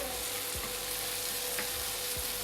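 Chicken sausages fry in a pan for a spicy Indian-style sausage masala, with a constant close sizzle of hot oil and a few soft clicks as pieces are pushed in one by one.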